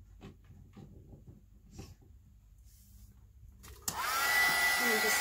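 An electric heat tool blasts on near the end to dry whitewashed old paper, a sudden loud steady whoosh after a few seconds of quiet shuffling and small handling noises.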